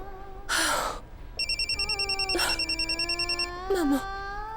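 Telephone ringing in a pulsed electronic ring pattern while a family calls Siddharth and Roshni to wish them a happy new year, with brief voices and gasps before and after the rings.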